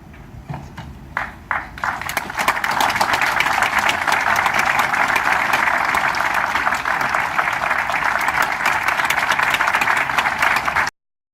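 Applause at a church federation election approving a pastor by acclamation: a few scattered claps at first, then a dense, sustained burst of clapping from a large assembly that cuts off abruptly.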